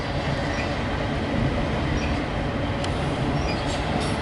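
An NS 202 intermodal freight train rolls past, a continuous heavy rumble of wheels and cars with faint intermittent squeals, steady and fairly close throughout.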